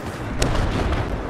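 A weapon fires in the video game Battlefield 4, a brief loud burst amid dense, rumbling battle noise that fills the whole moment.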